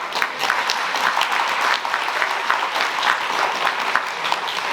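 Audience at a 2024 graduation ceremony applauding the graduates, steady dense clapping throughout at a consistent level with no talk over it.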